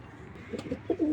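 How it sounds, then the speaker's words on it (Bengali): A tiger grizzle pigeon coos softly nearby, a few short low throaty notes ending in a louder coo, with faint background hum. "আর এই কবুতরটা একবার ইয়াং"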